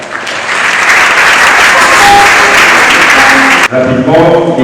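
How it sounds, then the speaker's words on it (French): A congregation applauds at a youth Mass, dense loud clapping that sustains for several seconds before giving way to talking or singing near the end. "je vous prie d'applaudir."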